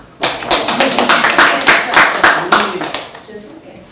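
A small studio audience on a Korean variety program claps in a brisk, fairly even rhythm, the individual hand strikes sharp and close, starting suddenly and tapering off after a few seconds.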